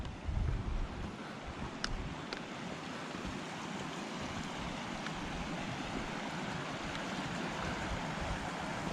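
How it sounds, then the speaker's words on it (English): A creek flowing beside a forest hiking trail near Goat Lake, a steady broadband rush of water that holds evenly throughout, fairly faint and unbroken, with no voices. "I can hear a lot of water. I can see a creek right in front of us."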